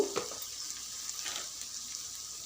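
Raw banana pieces fry in oil with turmeric, giving a steady, moderate sizzle with a few soft stirring knocks near the start.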